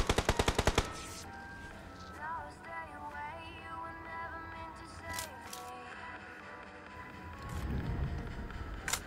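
Rapid bursts of automatic gunfire in PUBG Mobile, a loud string of close shots at the start, then scattered fainter shots and game effects over a busy background, with more firing near the end.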